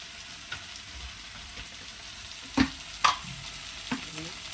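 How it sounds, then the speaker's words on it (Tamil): Tomatoes softened with spice powders sauté in a pan for a Tamil-style fish fry, a soft steady sizzle broken by a few sharp spoon scrapes and clinks, close up with no talking. "ஆல்ரெடி தக்காளி பழமும் நல்லா வதங்கிட்டு இதே நாங்கள் தேவையான தூளெல்லாம் போடுவோம்"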